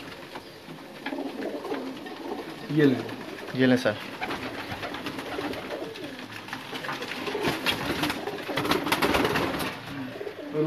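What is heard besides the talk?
pigeon cooing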